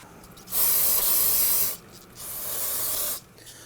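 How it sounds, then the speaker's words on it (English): Two long hissing bursts of solvent from a spray can while cleaning brake fluid residue off a rear brake caliper on a Nissan Murano, each lasting over a second with a brief pause between, close and fairly loud. "We are going to grab some spray solvent"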